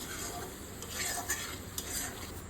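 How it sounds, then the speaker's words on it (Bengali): Fish curry masala with chopped tomato sautéing in oil in a pan, a soft continuous sizzle with light stirring scrapes, close and fairly quiet, with no voices. "ভালো করে আরও একটু কষিয়ে নিলাম"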